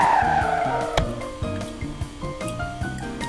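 A Toyota Avanza Veloz spinning drifting donuts in Roblox Car Driving Indonesia, engine revving in repeated surges with squealing, skidding tires, loud and close at first and easing slightly, without any talk.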